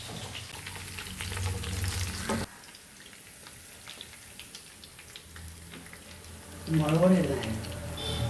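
Curry leaves drop into hot oil for mango pickle, giving a loud crackling sizzle that suddenly dies down to a quieter fry, then a brief clink of stirring; a voice speaks faintly toward the end.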